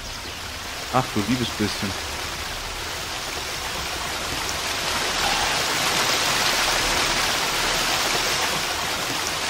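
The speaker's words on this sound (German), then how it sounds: "Gibt's auf jeden Fall Wasserfall." Waterfall in Gothic 2 mod Odyssee, a constant broad rushing of falling water that swells louder and keeps going, with someone speaking briefly over it near the start.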